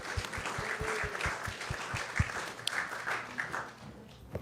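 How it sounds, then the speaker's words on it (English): An audience at a Krishna Katha gathering bursts into applause, steady clapping that builds and holds for several seconds, with a few louder individual claps standing out near the middle. "let's give them a big round of applause"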